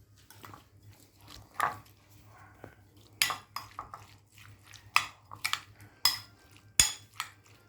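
Chicken sandwich filling with chopped vegetables is stirred and mixed in a bowl, giving scattered scraping clinks and dull knocks of a utensil against the bowl, loudest in a few sharp taps near the end, with a low steady hum beneath.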